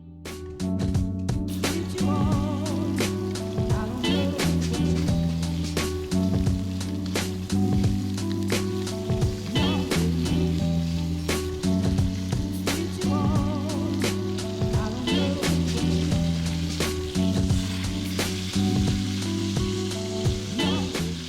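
A tomahawk ribeye steak sizzles in a pan on an MSR Pocket Rocket backpacking stove outdoors in the San Gabriel Mountains, a loud continuous fry with a steady burner hum and frequent crackling spits.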